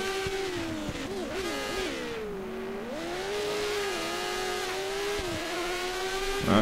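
Formula 1 race car engines from the F1 2013 racing game whine at high pitch, rising and dipping as gears change, with cars passing close. The sustained engine drone continues with no talking.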